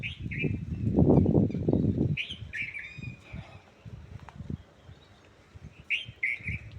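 Short bird calls repeat in bursts at an ashram against a low rumble of background noise, with a few scattered thumps.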